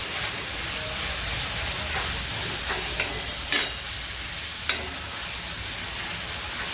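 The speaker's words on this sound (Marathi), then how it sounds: "गोल्डन करेपर्यंत आपल्याला कांद्याची परतून घ्यायचं आहे" Onions with plenty of curry leaves and cumin stir-fry in a pan, a steady close sizzle broken by three or four sharp spoon clanks and scrapes, with no talking.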